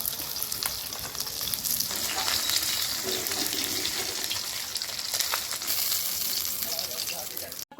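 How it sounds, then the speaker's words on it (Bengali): Steady crackling sizzle of rohu fish frying in hot oil, with occasional sharper pops and spatters throughout. "আস্তে আস্তে লাল লাল করে ভেজে নিতে হবে"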